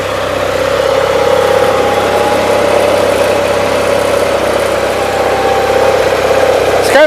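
A 1976 Gravely 816 tractor engine runs close and loud at a steady idle, a constant mechanical thrum with vibration and no speech.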